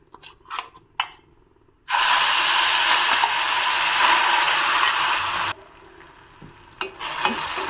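Ground capsicum paste hits a hot pan and sizzles loudly and steadily for several seconds, with a few scraping stirs and clinks before and after the burst of frying.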